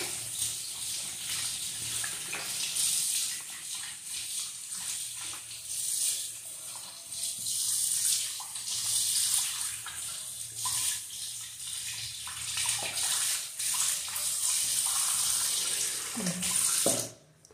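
Tap water runs steadily and close by while a pink Avon Clearskin clay face mask is rinsed off, a continuous splashing hiss with small shifts as hands move through the stream, ending abruptly.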